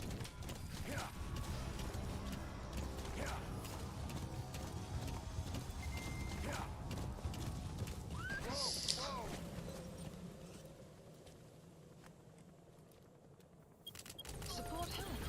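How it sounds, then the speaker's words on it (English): Hooves clip-clop steadily from a horse in a video game, a continuous rhythmic trot mixed with creaking and mechanical game sounds, while someone talks over much of it. "Like, stupid horse."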